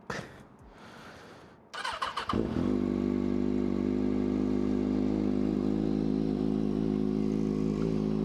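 A motorcycle engine clatters to life and settles into a loud, steady idle close by, with no one speaking.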